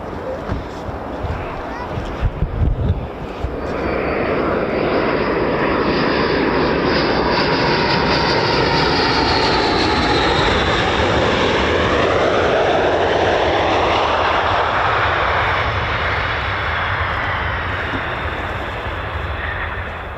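F-15 jet flying past, a loud sustained engine roar that swells and sweeps in pitch as it passes, with a brief burst of people talking near the start.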